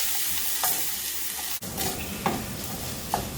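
Vegetables with onion cook down in a pot over a medium-low flame for Caribbean dutty rice, making a constant soft sizzling hiss with a few brief scrapes and clicks.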